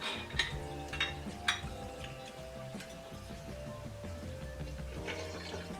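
Vodka, measured at 1.5 ounces, poured over ice straight into a cocktail glass, giving a soft liquid trickle with a few bright clinks of ice against glass.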